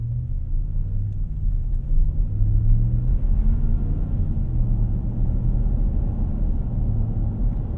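Inside the cabin of a 2019 Ram 1500 Bighorn Sport pickup with a 5.7L HEMI V8, a steady low road-and-engine rumble carries on while driving; the hum is quiet and even, with no one talking.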